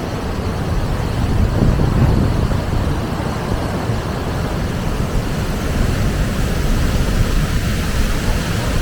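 Lake emptying straight into a bubbling waterfall cascade near Sulitjelma, Norway: a steady, loud broadband rush of churning water, continuous and close with no pauses, heard alone.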